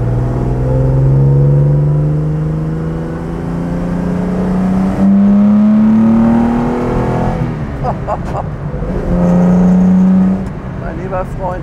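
A 1966 Jaguar E-Type 3.8 Coupé, a restored classic sports car, accelerating hard with a loud, rising engine note that climbs through the gears with brief dips at shifts. Someone speaks over the engine from inside the car.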